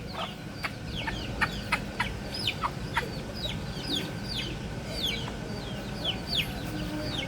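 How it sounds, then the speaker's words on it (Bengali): Hens with their chicks on a farm: steady low clucking mixed with many high, thin peeping calls from the chicks, close and continuous, with no talk. "মুরগিগুলো বাচ্চা নিয়েছো"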